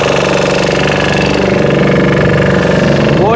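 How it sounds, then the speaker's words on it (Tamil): A heavy Lambadi engine on a prawn fishing boat working with a Salanga net runs loud and close, a deep, steady, rapid knocking throb that never lets up. "லம்பாடி, இதோட சவுண்டே ஹெவியாக இருக்கும்"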